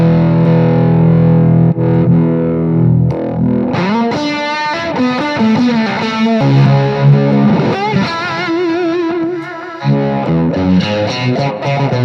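Electric guitar played through a drive pedal on a Hendrix-style pedalboard, heavily distorted sustained chords and riffs with bending notes, loud and continuous, no talking.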